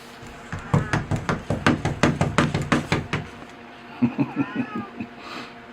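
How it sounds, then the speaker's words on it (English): A cat meows at a greenhouse door again and again in a quick, insistent series of short calls, close by, with faint tapping underneath. "The cat's at the door."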